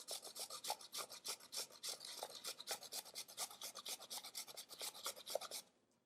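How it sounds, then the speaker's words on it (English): Fresh ginger scraped back and forth across a non-stick stainless steel blade grater, a fast rhythmic rasping of close, crisp strokes that stops abruptly near the end, with no speech. "You can go back and forth, or you can go in circles, however you want to grate."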